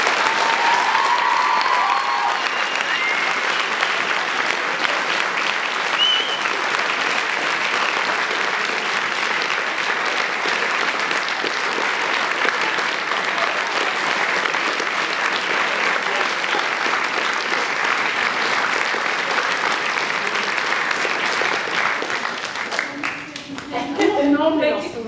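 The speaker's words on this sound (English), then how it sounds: "everybody would like to say thank you by giving you a huge round of applause" A school audience gives a long, loud round of applause for a teacher, sustained steady clapping for over twenty seconds before it thins out and a few voices and sounds emerge at the end.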